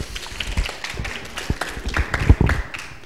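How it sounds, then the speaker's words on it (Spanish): Applause at a youth democratic-leadership workshop, a short burst of scattered hand clapping from a small group, fairly close and irregular, fading after a few seconds. "Aplausos, aplausos."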